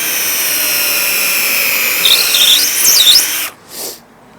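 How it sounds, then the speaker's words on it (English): A power drill whines steadily while boring 3mm holes through a parf stick held in the parf guide holes, with the pitch wavering as it bites. It stops abruptly, followed by a short whirr as it spins down. "my task now is to drill the 3mm holes through the holes in the parf stick"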